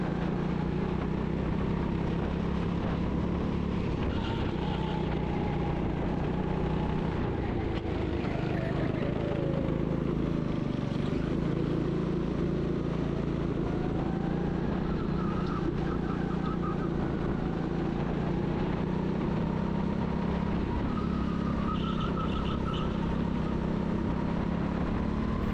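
Go-kart engines racing on the Parkwood Karting track in Sheffield: a loud, continuous buzzing drone whose pitch rises and falls as the karts speed up and slow down through the lap.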